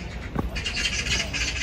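A brief bird call rings out amid a pine-lined walking park in Seoul, followed by a sustained chorus of chirping over steady outdoor background noise.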